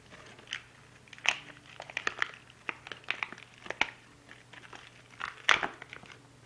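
A GYTR programmable ECU for a Yamaha WR450F is pulled from its plastic packaging, giving scattered crinkles and crackles of plastic, fairly faint and close, in uneven bursts with no talking.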